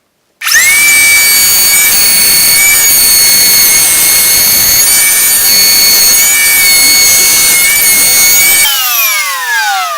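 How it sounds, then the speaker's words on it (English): A router bit trims a taper jig piece in a woodworking shop, a loud sustained high-pitched whine that runs steadily for several seconds, then winds down as the motor spins off. "I'll set these onto the router bit here and trim it out."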